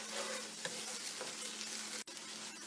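Garlic ginger paste fries with onions in a pan, giving a steady, dense sizzle close by, with faint scraping from stirring and no talk.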